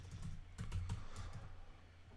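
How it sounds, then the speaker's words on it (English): Keys on a computer keyboard tapped in a quick burst of soft clicks, close and quiet, then slowing to a few scattered presses. "We're going to type in Json Placeholder."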